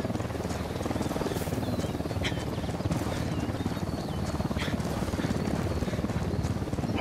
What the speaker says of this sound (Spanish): Un helicóptero de la unidad.